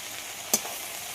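Shanti greens hiss faintly as they fry in a pan, with one short stirring scrape standing out against the steady sizzle.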